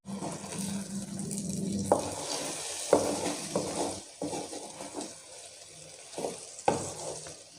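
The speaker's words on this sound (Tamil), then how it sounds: "கொஞ்சம் லைட்டாக பரட்டி விட்டுக்கலாம், வேகட்டும்." Egg fries in a pan for restaurant-style egg rice, with a steady sizzle broken by repeated scraping stirs of a utensil, fairly close and with no speech.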